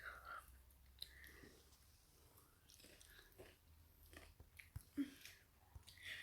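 Freshly made popcorn tossed with butter is bitten and chewed close up, giving quiet, soft crunches and mouth sounds scattered across a few seconds with no talking.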